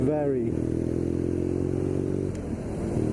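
A BMW R nine T Scrambler motorcycle engine runs with a steady, smooth drone and a brief dip in revs partway through, while someone talks over it.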